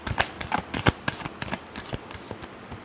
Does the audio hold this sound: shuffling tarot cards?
yes